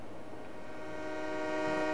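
Train in the video game Farming Simulator 22 sounds a steady, loud, chord-like horn over a low rumbling rail background, growing slightly louder across the short stretch.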